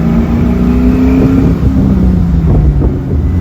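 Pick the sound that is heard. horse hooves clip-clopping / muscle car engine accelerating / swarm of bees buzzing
muscle car engine accelerating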